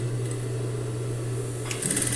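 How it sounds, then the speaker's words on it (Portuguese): A domestic sewing machine runs steadily while stitching a seam on a necessaire made of TNT nonwoven fabric, a continuous close motor hum that shifts briefly near the end as the stitch direction reverses for a backstitch. "eu passo essa costura, dou um retrocesso no início"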